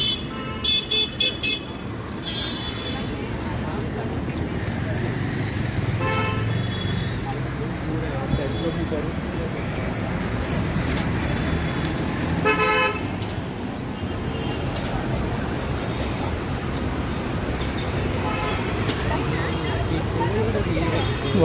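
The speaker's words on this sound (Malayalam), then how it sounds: "ഇതാണ് ബസ് സ്റ്റാൻഡ് ബസ് സ്റ്റാൻഡ് കേട്ടോ" Busy street traffic by a bus stand in Mumbai at night, with a steady rumble of vehicles and crowd babble, short car horn toots cutting through now and then, and a person talking over it.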